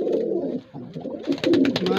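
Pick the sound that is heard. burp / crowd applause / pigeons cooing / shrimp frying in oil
pigeons cooing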